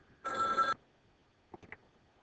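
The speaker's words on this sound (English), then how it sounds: "sorry about the phone." A telephone rings once in a short burst in a quiet room during a math lesson, followed by a couple of faint clicks.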